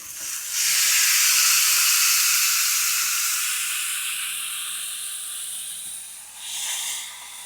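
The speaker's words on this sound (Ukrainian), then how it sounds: "І тепер другу рибку дорадо відправляємо на гріль." Dorado fish sizzles on a grill with a loud, steady hiss that comes in strongly, slowly fades, then swells briefly again near the end, with no talking.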